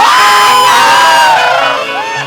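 A lively audience at a Bhojpuri stage dance show cheers and claps loudly together, a dense, sustained roar of crowd noise with whoops filling the whole moment.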